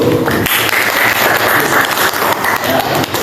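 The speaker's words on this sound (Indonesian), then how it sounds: "kasih tepuk tangan dulu" A classroom audience applauds during a teaching session, a loud, dense burst of clapping running the whole moment with a few voices mixed in.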